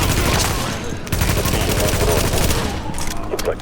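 Heavy video game gunfire pours out in a loud, nearly unbroken volley of overlapping shots, close and dense throughout, with a voice partly buried beneath it.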